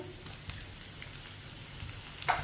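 Whole cumin seeds with crushed ginger and garlic frying in a pan for chana dal give a steady, soft sizzle throughout, with a brief clatter near the end and no voices.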